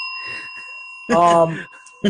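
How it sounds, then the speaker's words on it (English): A small bell rung on a wrestling podcast gives a steady, sustained ringing tone that runs through the whole moment, with people talking loudly over it partway through. "ring the bell"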